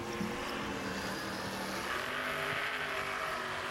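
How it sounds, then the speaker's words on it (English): Toyota race car doing a victory burnout at Dover in a NASCAR Nationwide Series victory circle, a steady, loud engine roar with tire noise holding throughout, with no talk. "And he's got the burnout process down pretty good, too."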